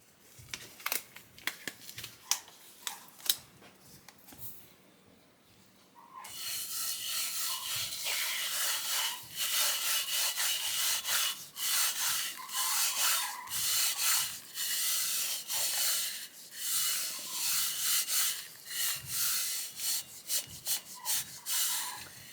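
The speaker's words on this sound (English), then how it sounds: "now I'm going to take a gloved hand and we're going to burnish this" Gloved hand burnishing ink over a glittered tumbler, a steady close rubbing and scuffing that runs in continuous strokes after a few quiet taps, with no talking.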